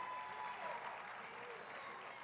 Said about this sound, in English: let's give all of our PSLA scholarships one more amazing round of